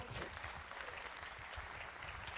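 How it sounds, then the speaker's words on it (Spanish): A church congregation claps during a sermon, a brief, continuous patter of many hands heard from a distance at low level, with no speech over it. "Dele palmas al Señor."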